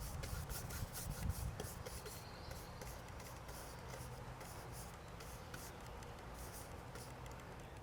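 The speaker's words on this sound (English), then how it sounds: "I'm using a number 12, sort of a scrubbing brush is what I call it." A number 12 scrubbing brush rubs and scrapes steadily over canvas in loose strokes. The sound is soft, close and continuous, a quiet papery rasp with no talking.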